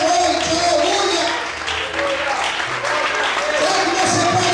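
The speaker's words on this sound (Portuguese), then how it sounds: "aplauda o Senhor e glorifica o nome de Deus nessa noite" A church congregation applauds during an evening worship service, sustained clapping mixed with voices and shouting under a loud, crowded room sound.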